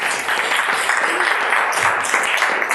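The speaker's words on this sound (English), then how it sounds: "I think that deserves a round of applause too." Steady, dense round of audience applause at a Minneapolis small-business event, many hands clapping at once with no gaps, loud and sustained throughout.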